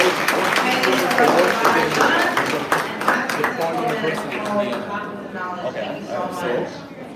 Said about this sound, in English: Another round of applause for the house of Gala.